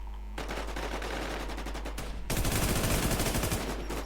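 Rapid automatic gunfire in the online zombie survival shooter WarZ, loud and close, running as a steady string of shots that grows heavier and denser partway through, heard alone.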